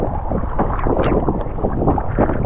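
Strong offshore wind buffeting a microphone during kayak fishing at sea, a loud continuous rumbling roar with water sloshing beneath it.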